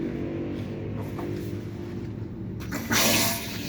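Water rushes through a toilet supply line as the valve is opened during a washroom renovation, a low steady flow that swells into a louder hiss near the end.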